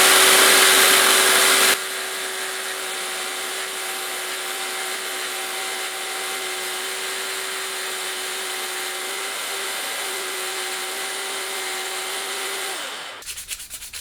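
Power sander grinding a wooden knife handle down to its aluminium edge, a loud continuous whirring hum with a steady tone that cuts off abruptly near the end.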